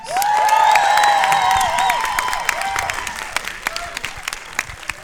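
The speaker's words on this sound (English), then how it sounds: "clap if you've now seen this film 3 or more times" Crowd clapping and cheering at a Rocketman Q&A with Elton John and cast, loud at first with a ringing tone over it, then thinning into scattered individual claps toward the end.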